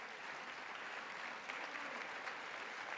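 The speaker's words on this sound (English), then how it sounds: "I see some hands clapping maybe" Sustained applause from a crowd of lawmakers during a presidential address to a joint session of Congress, steady and fairly distant, filling the whole stretch without a break.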